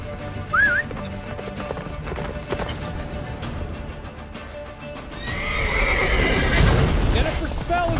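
A horse gallops in The Witcher 3, its hoofbeats and a whinny heard under spoken dialogue and game sounds, with the galloping growing louder and busier toward the end.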